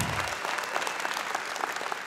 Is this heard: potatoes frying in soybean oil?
no